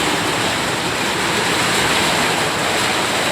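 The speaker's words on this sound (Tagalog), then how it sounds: "Ito na ulan." A loud, continuous wash of rushing water like heavy rain pouring down during flash flooding in Calayo, Nasugbu, steady and unbroken throughout with no voices.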